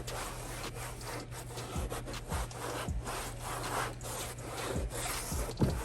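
Microfiber cloth rubbing acetone off a car's paint during a detail and paint correction, producing steady, close swishing strokes with soft low thumps and no talk.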